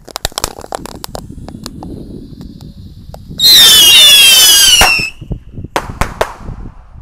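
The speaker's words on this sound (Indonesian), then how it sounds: "ini ada mercon roket pirotar 6 sekaligus ya" Six Pirotar rocket firecrackers lit together give a loud shrieking whistle for about a second and a half, preceded by scattered crackles and followed by several sharp bangs.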